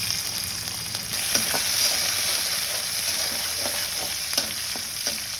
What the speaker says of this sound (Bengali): তেল দিয়ে দিয়েছি, এবার আমি দিয়ে দেবো কেটে রাখা রসুন পেঁয়াজ